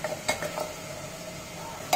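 Paya (goat trotters) in an oily curd-and-paste masala, stirred in a pan over high flame, with a few sharp spoon scrapes and clinks against the metal above a faint steady sizzle.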